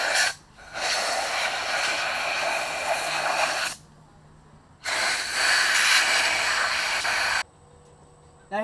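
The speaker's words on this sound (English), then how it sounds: "we'll give it a little compressed air for good measure" Compressed air hisses through the breathers of an engine valve cover as it is being cleaned. There are two long, loud, steady blasts of a few seconds each with short pauses between them, close up and with no talking.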